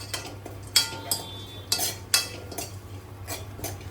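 Vermicelli roasting in ghee in a kadhai, stirred with a run of sharp scraping clinks against the pan at an uneven rhythm, close and moderately loud.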